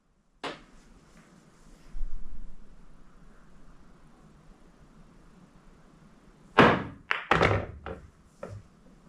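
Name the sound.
pool massé shot, cue ball curving to pocket the 8-ball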